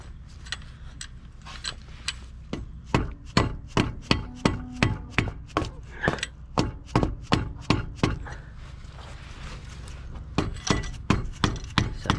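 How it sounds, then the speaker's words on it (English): Soft mallet tapping a brake pin into a Brembo caliper on an F56 Mini John Cooper Works, a long series of sharp close knocks, some in quick bursts, with pauses in between. "Tap it in. The reason we're using a soft mallet or a shot mallet is so we're not damaging the paint or anything."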